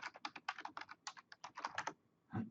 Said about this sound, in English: Let's type in the web server.